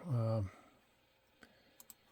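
Computer mouse right-clicking while locking a selected vector in laser engraver design software: a few faint, sharp clicks in quick succession after a brief burst of voice, in a quiet room.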